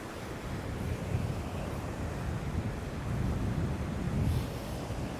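Ocean surf breaks and washes over a rock ledge during rock fishing for snapper. The roar is constant and loud, with a swell building near the end, and wind buffets the microphone.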